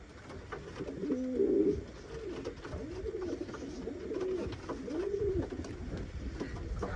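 Pigeons coo repeatedly in a rolling, throaty rhythm close by, beside a pair with a bird sitting on new eggs, with steady low background noise and no talking.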